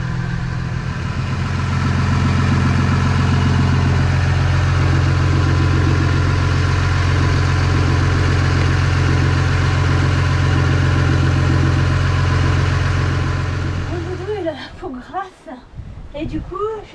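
A boat's engine runs steadily at idle to power a desalinator at sea, a loud continuous drone with a constant low hum, cutting out near the end to leave rustling and handling noise.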